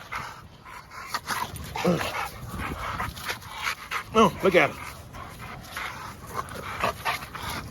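A giant bully puppy weighing over 100 pounds barks in short bursts and pants heavily, close by, while people talk and call out around it.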